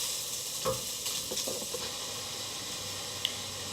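Ingredients fry in a pan with steady soft sizzling close by, under a few faint stirring scrapes and clinks, with no talking.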